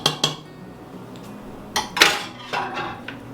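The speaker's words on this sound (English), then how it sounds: "I'm going to close up the Instant Pot" An Instant Pot lid is fitted and closed, making a few sharp metallic clinks and scrapes close by, separated by short pauses.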